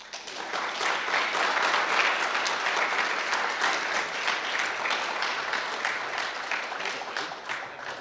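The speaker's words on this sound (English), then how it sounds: "let's give one more hand of applause" An audience claps after a talk at a security conference, sustained applause from a room-sized crowd that swells early and then gradually tapers off.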